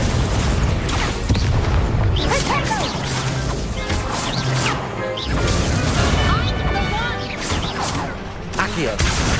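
Fire spell bursts and combat impacts from Hogwarts Legacy, a dense, loud run of whooshing blasts and crashes with occasional shouted voices mixed in.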